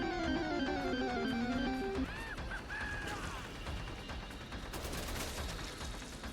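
Enemy gunfire in the video game Dead Rising Deluxe Remaster: dense, rattling bursts of shots fill the scene after a brief tonal musical opening and continue steadily to the end.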